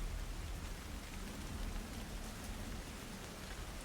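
Steady rain falling outdoors, an even broadband hiss of drops on surfaces holding at a constant level throughout with no voices.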